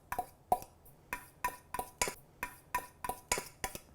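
Metal utensil clinks and scrapes against a bowl as flaked salmon is mixed into a salmon cake mixture, about a dozen sharp, close strokes in a steady rhythm with no talking.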